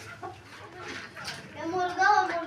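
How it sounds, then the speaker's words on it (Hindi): A rooster and hen cluck in short, soft bursts near a caretaker in a home bird enclosure, with voices talking over them. "ये मुर्गा और मुर्गी है।"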